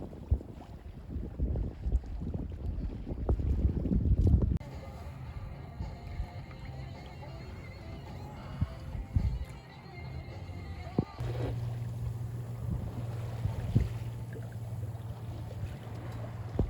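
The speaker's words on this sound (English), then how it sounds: "turn the engine off and use the sails again" Wind rushes over the microphone with water sloshing against a sailboat's hull, then a steadier low hum and gusty noise carry on, the engine off and no engine drone evident.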